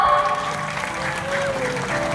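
A crowd claps at a Minang music show celebrating the Ratu Sikumbang anniversary, a brief, loud burst of applause with stage sound and voices mixed underneath.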